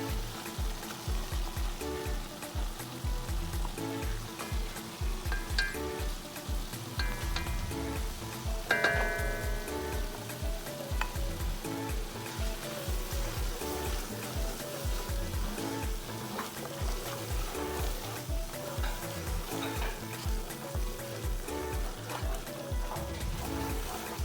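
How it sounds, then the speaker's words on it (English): Egusi fries in a pot of oil for Nigerian egusi soup, giving a steady close crackling sizzle with occasional sharper pops and stirring scrapes, no speech. "I'm gonna let it fry for about 3 more minutes"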